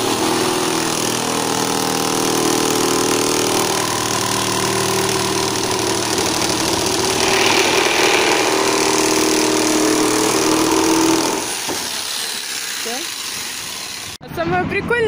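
A saw cuts through a whitewashed oak photo backdrop panel in a hardware store. The steady, loud motor-like whine runs for about eleven seconds, then stops, and people talk nearby.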